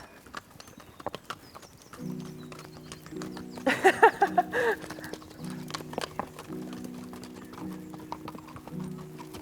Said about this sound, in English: A leisurely ride through the lupin fields on the back of an Icelandic horse